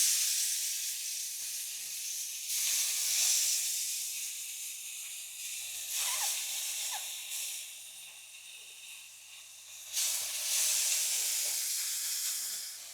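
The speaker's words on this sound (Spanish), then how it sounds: "Cuando tengamos la sartén bien caliente, le vamos a añadir un poco de aceite y la vamos a bajar al 7." Marinated chicken curry skewers frying in oil in a hot pan, a loud continuous sizzle and hiss close by that swells and eases in waves, with no talking.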